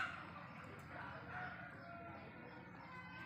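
Chickens, gà tàu fowl, cluck and crow faintly in a farmyard, a distant rooster call drawn out over soft background clucking.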